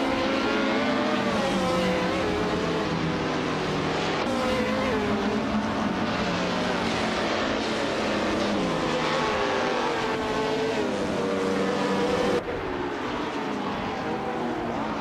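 Race cars in a video game roar continuously with layered engine whines shifting pitch as they duel through gears, loud and sustained throughout without a break.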